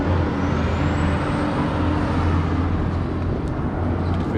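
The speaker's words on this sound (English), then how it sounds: "truck going past" A truck drives past on an outback road in Western Australia, a loud steady roadway roar with low engine rumble and a faint brake hiss, close by and drowning out everything else.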